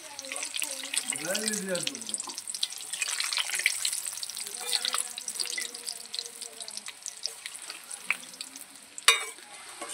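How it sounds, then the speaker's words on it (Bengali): Steady crackling sizzle of palm-fruit fritters frying in oil, with brief swishing stirs and a low hum underneath; close and moderately loud throughout. "বড়াগুলো খুব সুন্দর করে ভাজা হয়ে গেছে"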